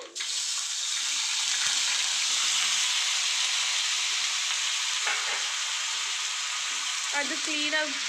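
Finely chopped brinjal frying and being stirred in a pan for Mysore badanekai palya, a loud continuous sizzle with soft scraping near the end.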